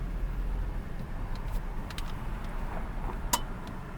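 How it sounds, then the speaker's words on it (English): A Volkswagen Up with a semi-automatic gearbox pulls away slowly from a showroom, heard from inside the cabin as a low, steady engine and road rumble, with a few faint ticks and clicks over it. "hold the brake, put the car in drive, and we can move off"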